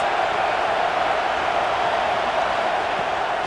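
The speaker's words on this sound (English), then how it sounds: "Big 3rd down as the crowd gets behind this defense." Steady, dense stadium crowd roar in a college football video game as fans rally behind the defense on a big third down, continuous and even throughout with no distinct peaks.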